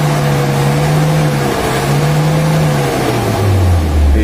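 Toyota Kijang diesel engine running rough and down on power, heard up close and loud as a steady droning idle that shifts pitch while being revved, with no talk.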